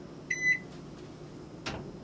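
A microwave oven heating a hot toddy with spiced rum or bourbon gives a short electronic beep over a low steady hum, followed by a brief clunk, heard close with no talking.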